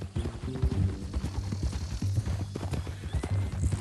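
Horse hooves clip-clop in Red Dead Redemption 2, a close, steady run of hoofbeats over a low rumble with snorting and tonal game sounds.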